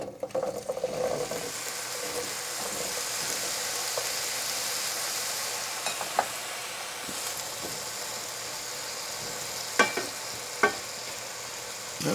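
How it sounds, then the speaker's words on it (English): Potato fries deep frying in oil, a steady broad hiss and bubbling that holds for several seconds, with a few sharp utensil clinks near the end and no talking. "going to make our fries. All right, put enough oil to fry your potato."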